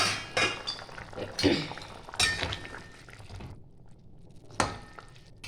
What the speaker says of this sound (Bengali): ঢাকাটা খুলে দিচ্ছি।